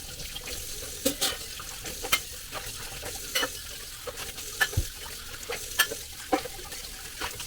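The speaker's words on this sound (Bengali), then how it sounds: "এবার শুধু এটাকে ওই ঢাকনা খুলে খুলে মেশাবো, নাড়াবো, আর ব্যাস হয়ে যাবে মাংস।" Stirring meat cooking in a covered pan, with repeated sharp spoon clinks against the pan over a steady low sizzle, close and fairly loud, without any talking.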